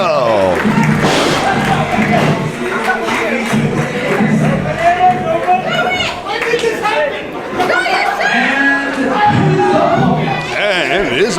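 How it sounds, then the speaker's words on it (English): A wrestling crowd cheers and chatters loudly as a wrestler heads to the ring, with shouts, whoops and scattered applause rising and falling in dense waves, close and full. "Crowd all behind Elite Terrel."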